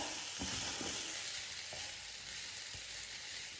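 Spiced rice and prawns sizzle and fry steadily in a pan while a spoon folds them together, a few soft scraping stirs cutting through the constant crackle.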